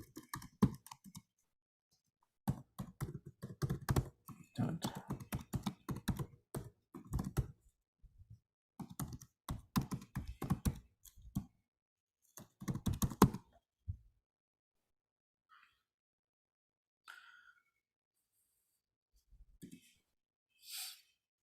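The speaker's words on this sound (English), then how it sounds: "Let me see if now if I can type in this link here." Computer keyboard keys clatter in quick close bursts of typing, separated by pauses, with scattered clicks near the end.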